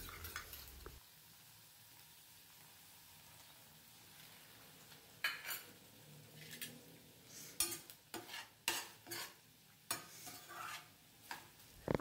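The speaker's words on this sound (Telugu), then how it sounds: "ఈ మొక్కజొన్న పిండి నీళ్ళని కూడా దీనిలో పోసుకొని మరొకసారి మొత్తం కలుపుకోవాలి" Cornflour water being stirred into a gobi manchurian sauce in a pan, with a steady faint sizzle and scraping spoon strokes that grow more frequent toward the end, no voices.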